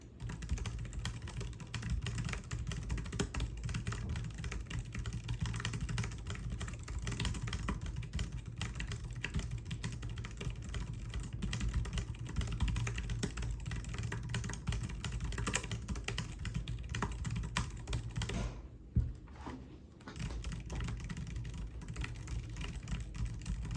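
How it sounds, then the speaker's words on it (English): Rapid, steady typing on a computer keyboard with a numpad, a dense run of close clicks and clacks over a low constant hum, with a brief pause near the end before the keystrokes resume. "Here's a quick sound test of this keyboard."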